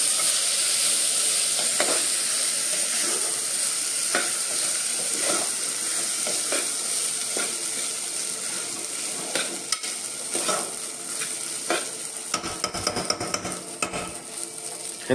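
Soaked rice stir-fried in hot tempering for vangi bhaat (brinjal rice), a continuous sizzle with repeated spatula scrapes and stirring strokes against the pot, growing busier with clatter toward the end.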